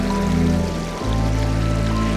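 Icy, freezing creek water flows around the legs of someone standing in it nearly knee-deep, making a loud, steady rushing and gurgling close to the microphone, with one brief splashy shift in the middle.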